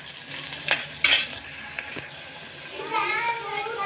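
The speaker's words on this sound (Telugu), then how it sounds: "చూడండి ఇవి బాగా ఫ్రై అవ్వాలి ఆనియన్స్ ఫ్రై అయితే టేస్ట్ మరింత రుచిగా ఉంటുంది" Onions frying in a pan for a cluster bean curry with coconut milk, a continuous sizzle under a few clattering stirs, with a brighter crackling burst near the end.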